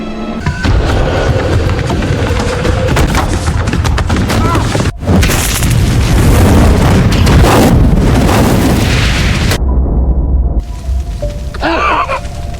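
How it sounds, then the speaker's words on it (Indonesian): A huge film-effect explosion tears apart a house: a loud, roaring blast with a heavy low rumble that runs for several seconds, cuts briefly, surges again, then thins to a lingering rumble and debris. "Sebuah ledakan dahsyat menghancurkan rumah itu dan menghancurkan semua yang ada di dalamnya."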